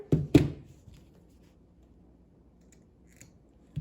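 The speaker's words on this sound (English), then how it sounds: "So I'm gonna trim off the extra bit right here." Scissors trim excess fabric from a Kindle sleeve with two quick, crisp snips close by, followed by near silence and a faint click.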